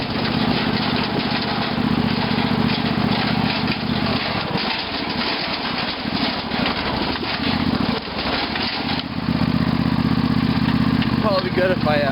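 A Craftsman II lawn tractor engine drones loud and steady as the mower drives through woods, the pitch dipping briefly mid-run before climbing back to full throttle.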